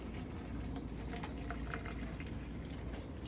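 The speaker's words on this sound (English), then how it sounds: "I'm gonna turn the water on just a tad bit." Tap water runs steadily into a bathroom sink lined with a paper towel, a continuous soft hiss and splash with faint dripping detail, close and alone without voices.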